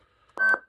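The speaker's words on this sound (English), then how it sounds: "Once you hear that tone, you can just cycle through colors." A BK MK11 gives a short electronic beep, one clean steady tone lasting a fraction of a second and heard alone in quiet surroundings.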